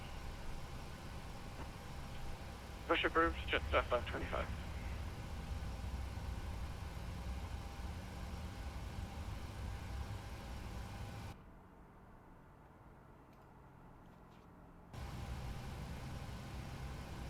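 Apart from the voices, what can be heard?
PMDG Boeing 737 engine idling in flight simulator game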